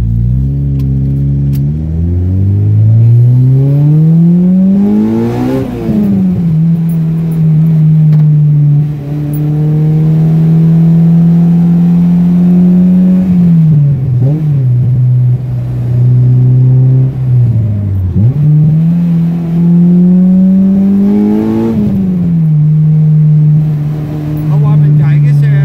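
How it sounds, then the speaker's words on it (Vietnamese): A Honda Civic EG with a K20A2 engine swap accelerates hard, the engine climbing through the revs in several long pulls close by, with a voice speaking over it. "Đạp ga nó chạy như vậy đó."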